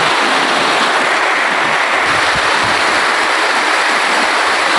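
Floodwater at Ataikula in Pabna, churned up by a heavy rainstorm, rushes past in a loud, dense, unbroken roar of flowing current.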